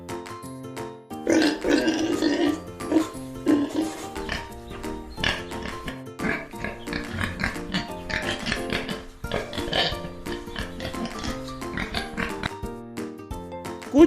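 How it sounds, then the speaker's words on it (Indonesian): A farm pig oinks, grunts and snorts repeatedly in close, loud bursts that are irregular and continuous across the whole stretch. "Babi bahasa Inggrisnya pig."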